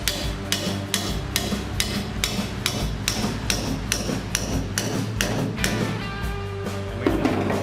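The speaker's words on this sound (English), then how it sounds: "you may need to get a hammer just to hammer that through" Repeated sharp metallic hammer strikes in a steady rhythm, about two per second, loud and close, as a metal spit prong is driven through a pig, continuing throughout.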